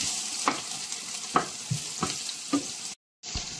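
Ginger and garlic sautéing in a pan for pork kilawin, a low continuous sizzle broken by several sharp spatula stirs and scrapes, then a brief cut to silence before it resumes.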